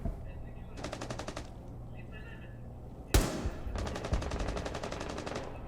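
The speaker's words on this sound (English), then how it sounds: "he just tried to shoot him through" Rapid automatic gunfire from a player in a competitive shooter game firing through a wall, with bursts of fast repeated shots, a sharp loud blast partway through, and steady sustained fire after it, under faint background noise.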